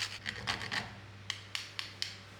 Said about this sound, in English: Next, I'm grating in about a teaspoon and a half of nutmeg.